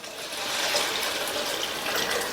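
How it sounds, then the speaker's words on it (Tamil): Water pours steadily into a cooking pot as a brinjal curry is being made, a continuous close splashing gush with no break and no talking. "இதில் தண்ணி சேர்த்துடலாம்."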